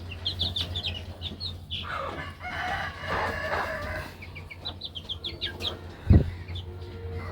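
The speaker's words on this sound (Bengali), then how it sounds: "আর এখানে আছে এগুলো দেশি মুরগি" Native country chickens in a rooftop coop cluck and call in repeated bursts, with a louder thump near the end over steady low background hum.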